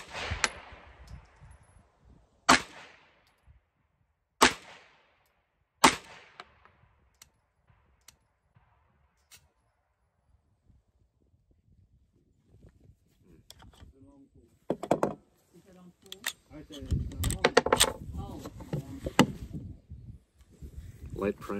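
A Glock pistol fires at a shooting range, several sharp, loud gunshots spaced a couple of seconds apart, followed by quieter handling clicks and clatter, then a burst of louder mechanical rattling near the end.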